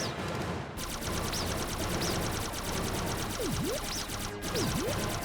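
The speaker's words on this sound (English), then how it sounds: "Press enter to fire the cannon. Hold enter to shoot continuously." Rapid, continuous cannon fire from the Pac-Man World: RePac video game, a steady machine-gun-like rattle of shots with occasional swooping electronic tones layered on top, loud and unbroken throughout.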